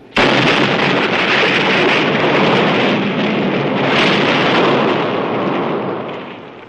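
A massive explosion destroying an entire island in a 1966 Fantastic Four audio drama: a loud, continuous roaring blast rumbles for nearly seven seconds with a brief surge midway, then slowly tapers off, with no voices.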